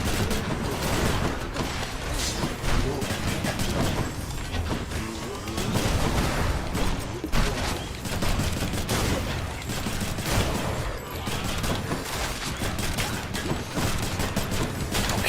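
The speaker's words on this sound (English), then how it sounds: "I'm gonna start shooting." Shooting in a video game: dense, continuous bursts of gunfire and booming impacts, loud and busy for the whole stretch with almost no pause.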